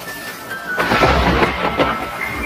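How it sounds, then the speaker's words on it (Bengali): Deep rumbling thunder rolls in under a roaring storm, building loud and close before easing slightly. "এমন সময় প্রচুর বেগে ঝড় ওঠে।"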